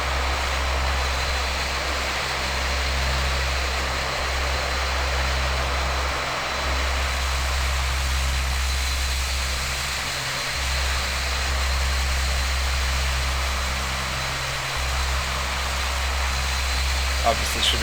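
Q400 turboprop taxiing in a flight simulator at tiny Honningsvåg airport in Norway: a steady, loud low engine drone with a propeller hum that holds constant throughout, broken only by a few brief dips.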